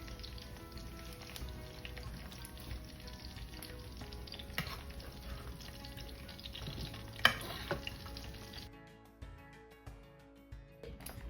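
Browned sausage sizzles in a pan, a steady fairly quiet frying hiss with a brief clatter near the end before the sound drops off and only faint crackles remain, no talking.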